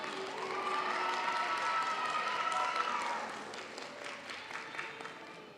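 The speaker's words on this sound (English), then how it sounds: "find your families in this crowd, and give them a big hand" Audience at a practical nursing pinning ceremony breaks into loud, sustained applause and cheering for the families in the crowd, a dense wash of clapping that swells, then tapers into scattered claps.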